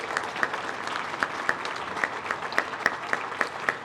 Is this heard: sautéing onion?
no